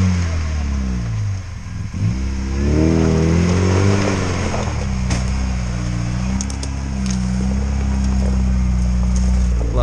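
An off-road vehicle, a Snow Leopard under its first trials, drives through a ditch at a stream crossing, its engine revving and rising in pitch as it climbs out, loud and close, with the motor then idling steadily.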